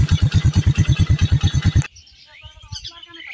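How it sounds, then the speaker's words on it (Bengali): A motorcycle engine idles close by with a rapid, even low thumping pulse, then abruptly cuts to quieter background with faint bird chirps. "যেরকম আপনারা আমার বাইকের সাউন্ড এই মুহূর্তে শুনতে পাচ্ছেন"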